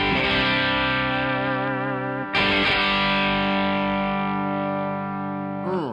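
Electric guitar played through a Headrush Blues Driver overdrive into a Princeton Reverb amp, ringing with a gritty, sustained distorted tone, two strummed chords left to sustain, loud and close, with no voices.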